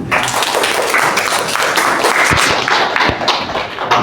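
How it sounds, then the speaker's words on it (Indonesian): A classroom audience applauds after a teaching presentation on marriage rules in Islam. Loud, dense clapping runs throughout, with a couple of heavier thumps standing out near the end. "Berikan tepuk tangan."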